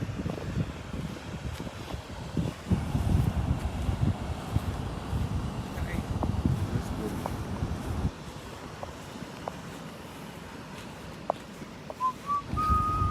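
An east wind blows across the beach at Pawleys Island, a steady broad rush and buffeting rumble that eases partway through, with faint high whistling tones near the end.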